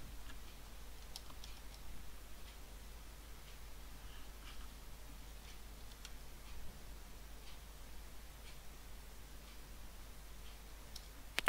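Typing on a computer keyboard to enter a number, heard as faint, scattered key clicks over a steady low hum, quiet and close, with no talking.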